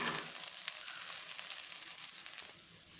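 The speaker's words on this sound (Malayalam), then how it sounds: "ഇനി അവലും സവാളയും എല്ലാം കൂടെ നന്നായിട്ട് ഇളക്കി യോജിപ്പിക്കണം" Flattened rice (aval) and sliced onion being stirred together in a pan over a very low flame for aval upma, giving a soft, steady sizzle with light scraping that fades slightly toward the end.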